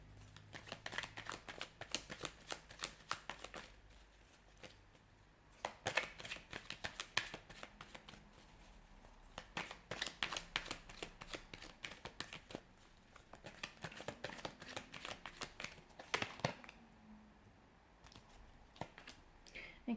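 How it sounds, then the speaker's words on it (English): Tarot cards are shuffled by hand in repeated bursts of riffling and soft slapping, close and crisp, with brief pauses between handfuls and quiet voice moments underneath. "we'll give the cards a shuffle and see what's coming in for you"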